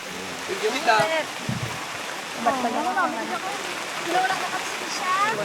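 Rain on a mountain trail during the rainy season, heard as a steady broadband wash of falling water close by, with people talking over it throughout.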